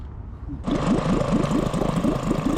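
A boat outboard motor catches and runs at a slightly high idle, giving a loud, close, rapid rhythmic chugging that stays steady after the start.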